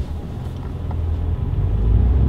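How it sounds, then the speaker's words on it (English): A Mercedes A250 in eco mode pulls away as its engine hum rises steadily under a low road rumble, with the transmission shifting quickly along the way. "in eco mode, the transmission shifts pretty fast"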